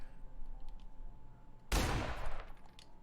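A single loud sniper rifle shot in the video game The Outer Worlds cracks out sharply and then rolls off in a long echoing tail over quiet ambient game background.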